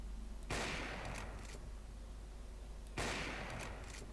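Bursts of gunfire in Counter-Strike on the Inferno map: two loud volleys of rapid shots about two and a half seconds apart, with a low steady game background hum between them and no talking.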